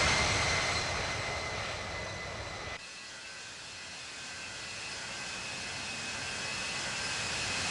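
Simulated Qatar Cargo Boeing 777-200F jet engines roar through a takeoff run in the Infinite Flight game, a loud broadband rumble and whine that drops suddenly partway through, then holds a steadier, quieter drone.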